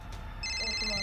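A phone ringing with an incoming call, a bright repeating electronic ringtone starting sharply and continuing close by over low background noise.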